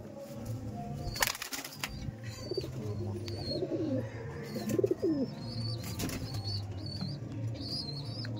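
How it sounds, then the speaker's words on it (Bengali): Kalasobuj Kaldom pigeons in a loft coo low and steadily, with bursts of flapping wings and scattered chirps from other birds. The background stays busy and constant throughout. "হ্যাঁ হ্যাঁ এই যে দেখুন এই পায়রা।"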